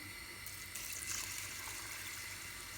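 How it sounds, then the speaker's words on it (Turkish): Water poured into a pot of kelle paça makes a steady, close rush of running liquid that swells slightly partway through and carries on without any talking. "Suyunu ilave edeyim ben."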